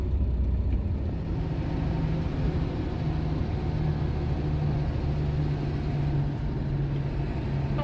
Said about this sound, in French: Il y a un max de circulation